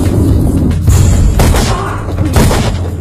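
Gunfire from a bandit in a 2019 action movie, many bullets fired in dense, loud, rapid bursts and booms layered over a busy soundtrack, with a voice faintly present.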